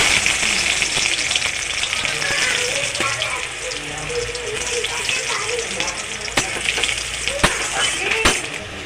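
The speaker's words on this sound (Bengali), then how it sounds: "গরম তেলের মধ্যে দিয়ে দেবো ফোড়নে কালো জিরে আর শুকনো লঙ্কা" Steady crackling sizzle of nigella seeds, dried red chilies and crushed garlic frying in hot oil, loud and close, with a few sharp pops near the end.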